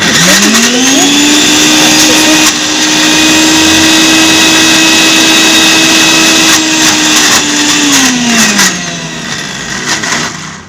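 A mixer grinder grinds amla paste, its motor spinning up, holding a steady high whine for about seven seconds, then winding down near the end; loud and close with no talking.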